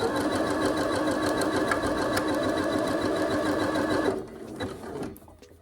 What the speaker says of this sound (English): turn your dress as you go under your machine to make sure it's not getting bunched up